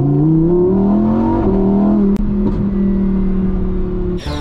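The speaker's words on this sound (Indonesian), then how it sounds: "Wih, ini ada mobil sport warna merah" A red toy sports car plays a loud, close engine sound that revs up and then holds a steady whine, with a brief click near the end.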